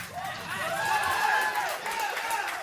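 Crowd noise at a ninja obstacle competition, a steady roar of cheering and chatter rising and falling with shouted voices over it.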